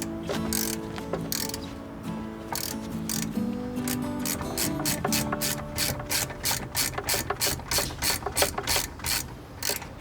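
Ratchet wrench tightening a bolt on a 1988 Jeep Cherokee XJ, its pawl clicking in a fast, even rhythm of repeated strokes, close and clear with no speech.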